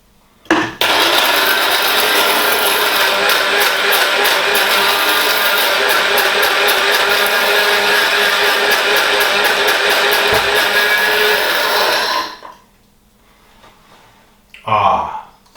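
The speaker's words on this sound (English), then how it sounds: "now I'm going to go in with the Star Anise and give them a slight grinding before I add the rest" Star anise being ground in an electric spice grinder: a loud, steady, close whirring and rattling that runs about twelve seconds and then stops abruptly, leaving near quiet.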